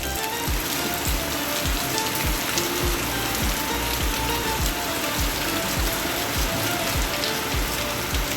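Heavy morning downpour with no wind, a dense steady hiss of rain drumming on surfaces, with close drips tapping throughout.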